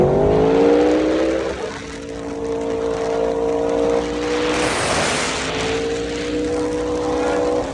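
A BMW S1000RR sportbike engine revs hard through a wheelie, a loud rising howl that dips, then climbs again as the throttle is rolled back on, close and continuous.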